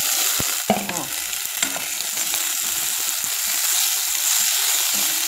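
Steak frying in a thick pan with no oil: a steady, bright hiss of sizzling holds throughout, close by, with a few brief scrapes and knocks near the start.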